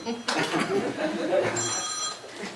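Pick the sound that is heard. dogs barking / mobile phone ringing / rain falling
mobile phone ringing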